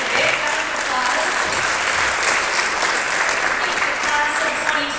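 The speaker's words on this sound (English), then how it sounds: "It's a big round of applause." Audience applause at a high school choral concert for the class of 2021, a dense, steady round of clapping from a large crowd sustained throughout, close and loud.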